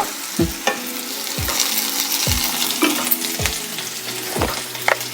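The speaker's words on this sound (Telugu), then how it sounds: "చూడండి, నేను వేసిన ఉల్లిపాయ ముక్కలు చక్కగా వేగుతున్నాయి. ఇప్పుడు కరివేపాకు వేస్తున్నాను." Onion pieces and curry leaves fry in oil over a bright sizzle, broken by about five rhythmic scraping stirs of a spoon against the pan.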